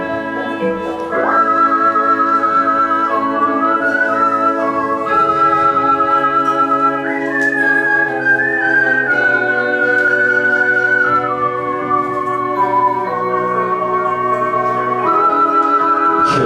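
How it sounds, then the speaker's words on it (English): A loud, clear whistled melody, sustained tones gliding between pitches over a steady musical backing, continuing without pause. "Whistle."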